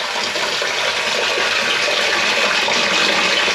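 Water rushes steadily through newly fitted en suite plumbing pipes on their first fill in a loft conversion, a constant loud hiss and gush heard close up with no talk.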